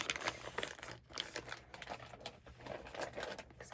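Typewriter ink rolls are handled up close, giving soft, continuous crinkling and rustling with small plasticky clicks, quiet and intimate throughout.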